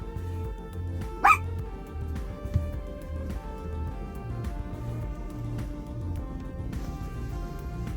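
A pet puppy named Asher gives one sharp, close bark early on, followed by a fainter yelp, over a quiet indoor background hum.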